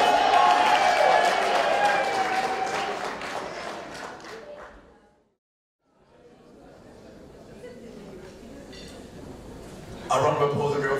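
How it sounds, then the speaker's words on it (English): An awards ceremony audience applauds amid crowd chatter, loud at first and then fading into a short silence before murmuring and clapping pick up again. "A round of applause for the beautiful Senator"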